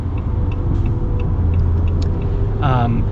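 A 2026 Ram pickup truck engine rumbles steadily up close, then a second vehicle passes near the end with a rising whine.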